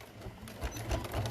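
A sewing machine stitches a straight line down the edge of fabric for a folded star trivet, a faint, steady low whirring hum that runs for a moment and swells slightly toward the end.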